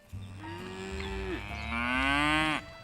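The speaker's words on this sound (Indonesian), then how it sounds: "sapi-sapi digiring menuju tempat pemerahan susu" Cattle on the Hedgebrook farm outside Washington DC lowing as they are herded toward milking, two long close moos with rising and falling pitch over a low background murmur.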